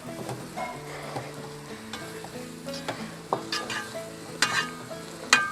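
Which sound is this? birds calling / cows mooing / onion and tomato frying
onion and tomato frying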